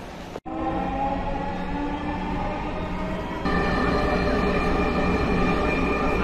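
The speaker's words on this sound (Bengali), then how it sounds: "মূলত এখন ট্রেনে চলে যাচ্ছি মিরপুরের দিকে।" A Dhaka metro rail train running out of Uttara North station toward Mirpur, heard from inside as a steady rumbling drone that rises a little midway, with no speech.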